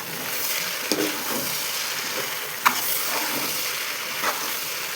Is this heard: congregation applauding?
no